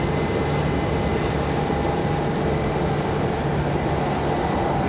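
A Boeing 777 airliner at Raleigh-Durham International Airport produces a loud, steady jet roar that fills the whole moment as a broad continuous rumble with no talking.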